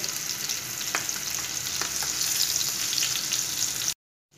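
Hilsa fish frying in mustard oil produces a loud, close, bright sizzle with a few spatter pops, then cuts off abruptly into silence; no speech.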